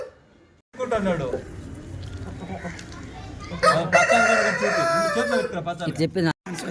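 Roosters crow loudly and repeatedly nearby at a poultry market, with hens clucking in between and a voice talking over the birds.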